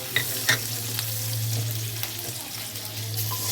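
Chopped garlic, ginger and slit green chili fry in hot oil with a close, bright sizzle. A couple of sharp spatula scrapes come early, then the crackle settles into an even hiss over a low steady hum.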